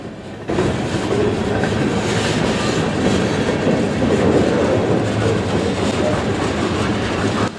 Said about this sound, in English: The last three notable cars on this train were the two Sioux Line and one Ontario Northland plywood cars